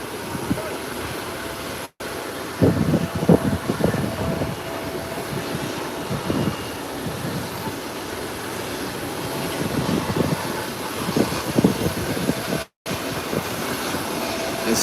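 A Bombardier InterCaribbean airliner in from Havana, Cuba taxis toward an airport gate, its engines a loud, steady broadband roar with slight rises and falls.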